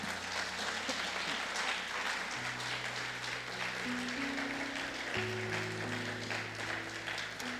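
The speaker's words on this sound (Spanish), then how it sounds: "¿Por qué no le das un aplauso al Señor?" A church congregation applauds continuously during a Spanish-language sermon, steady dense clapping heard throughout over sustained background tones.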